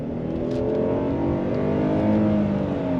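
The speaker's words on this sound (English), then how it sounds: "On throttle, here we go. Instant torque from the V6." A 2023 Hyundai Palisade V6 SUV accelerates hard in sport mode, its engine note climbing steadily in pitch as the revs rise, loud and close from the cabin with no talking.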